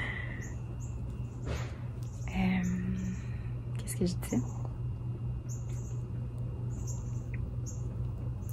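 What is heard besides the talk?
small birds singing outdoors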